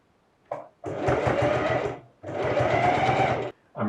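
Sewing machine stitching an invisible zipper, running in two steady bursts of rapid, rhythmic needle chatter separated by a brief pause, close and fairly loud, with no talk over it.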